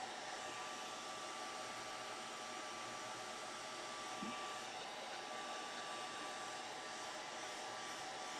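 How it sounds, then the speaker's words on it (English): A hair dryer on its low, cool setting blows a soft, steady airy whoosh over an art print on a gel plate. It keeps an even tone throughout, faint and close, with no talking. "This is a hair dryer set on low or cool."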